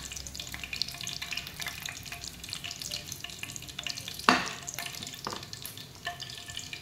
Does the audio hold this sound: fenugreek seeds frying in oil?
yes